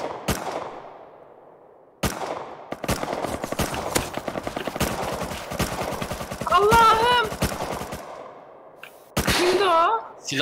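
LR rifle fire in the survival game Rust: rapid automatic bursts of sharp, loud gunshots through most of the stretch, with short pauses, plus brief chirping game effects near the end.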